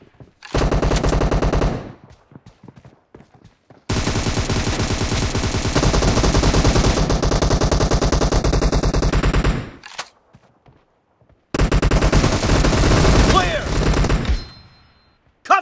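Automatic gunfire in PUBG Mobile, a team deathmatch arena session, roars in three long loud sustained bursts separated by short pauses, with faint speech nearby.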